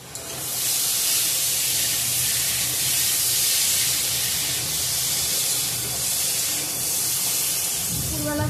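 Hot water poured into a hot frying pan while cooking a paneer curry throws up a loud, steady, close hiss and sizzle that lasts about eight seconds.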